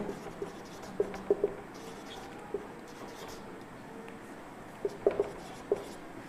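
Writing during a class 10 trigonometry lesson: faint, sparse taps and short scratches of a pen or chalk against a quiet room background, with a few louder clicks in small clusters.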